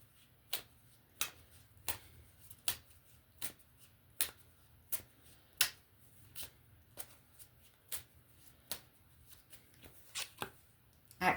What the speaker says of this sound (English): let's go ahead and pull a card from the Healing Energy Oracle, you guys